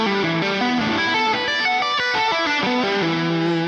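Distorted electric guitar plays a fast shred rock solo lick, a rapid run of bright sustained notes through an effects unit, loud and continuous for the whole stretch with no talking.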